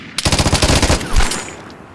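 A PKM machine gun fires in the video game Vigor, a loud, close burst of rapid rounds that cuts off after about a second and leaves a short echoing tail.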